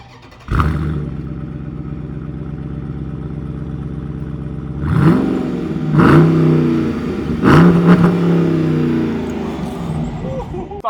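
A 2023 Dodge Durango SRT 392 V8 fires up with a sharp crank, settles into a deep rumbling idle, then gets three strong revs in a row, loud and close.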